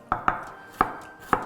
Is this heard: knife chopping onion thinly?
yes